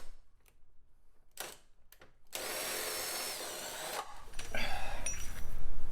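Body mount nuts come off a Jeep JL Wrangler with a power tool, starting as short separate bursts and then turning into a longer, louder whirring run close by.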